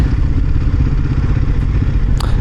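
Honda NX500 motorcycle fitted with an aftermarket exhaust, its engine running close and loud with a steady low rumble and mechanical clatter over a brief burst, no talking.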